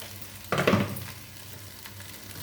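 A tempering for mango poha pulihora frying in a pan, with a sudden loud sizzle burst that fades into a quieter steady crackle, close by and without voices.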